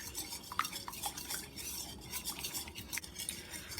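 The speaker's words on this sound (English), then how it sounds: "I'm going to whisk these together until they're well incorporated" A whisk beats flour, brown sugar and cinnamon together in a bowl for brown sugar oatmeal muffins, making a steady, fairly soft run of rhythmic scraping and tapping strokes close by.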